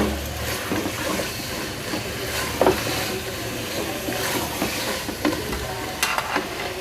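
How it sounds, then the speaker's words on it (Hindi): Halwa pumpkin is stirred into spices frying in a pressure cooker, giving a steady sizzle with scraping and clinks throughout. "हम इसमें डाल देंगे हलवा कद्दू, और मसाले को इसमें अच्छे से मिक्स कर लेंगे।"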